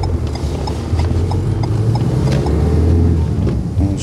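Steady, loud diesel drone heard from inside the cabin of a 2018 Renault Megane 4 with a 1.5 dCi engine, a continuous low rumble with a humming undertone and no talk over it.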